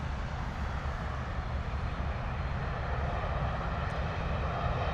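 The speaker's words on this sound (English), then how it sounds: "we've got a lot Air Boeing 737-800 MAX coming in from Warsaw" A LOT Boeing 737-800 MAX arriving from Warsaw lands at London Heathrow, its engines a steady low, distant rumble with a constant broadband roar and no talk.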